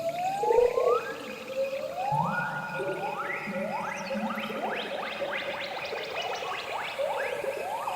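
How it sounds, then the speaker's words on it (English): A synthesizer patch drenched in heavy chorus gives rising, swooping whoops that stack and overlap into a dense, echoing chorus of calls, like a troop of gibbons chanting far off, continuous and moderately loud with no voices. "Sounds kind of like a bunch of gibbons in the trees from like far away, all like chanting at once"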